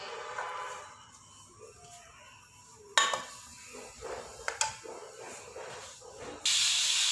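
Spinach boils in a pot while sliced onions fry golden brown in oil, a faint steady hiss and sizzle with occasional clinks of utensils and a louder burst of spray near the end.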